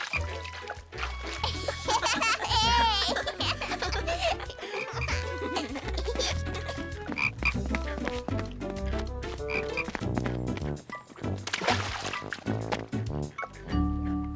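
Cartoon frogs croak by a pond amid music and watery trickles, repeated croaks throughout, with a narrator's voice speaking over parts of it.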